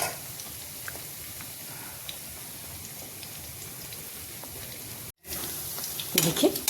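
Onion pakoras fry in mustard oil with a steady, even sizzle and faint crackle throughout, broken by a brief gap near the end before the bubbling resumes slightly louder.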